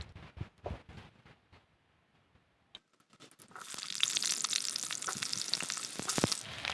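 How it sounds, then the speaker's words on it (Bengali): Potatoes fry in oil in a pan: a few quiet clinks and scrapes give way, after a near-silent gap, to a steady close sizzle with crackling spits. "আলুটা ভেজে নেব।"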